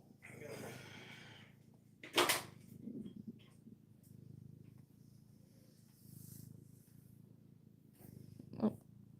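Quiet, low steady purring from a female cat, rumbling faintly throughout with a couple of brief louder knocks.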